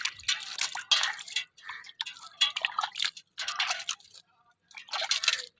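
Water poured onto freshly planted chilli seedlings in a field row, heard as close splashing, dripping trickles in several uneven bursts separated by short pauses.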